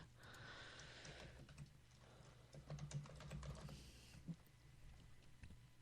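Faint clicks of someone typing on a computer keyboard, scattered keystrokes in irregular bursts over a low background hum, quiet and somewhat distant.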